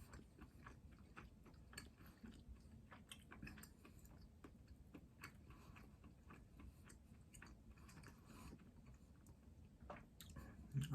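Smoked venison ham is chewed close up, with quiet, steady wet mastication and soft bites repeating over a faint background.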